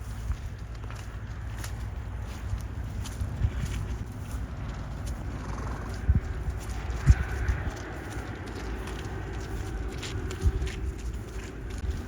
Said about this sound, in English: these horses are running across the field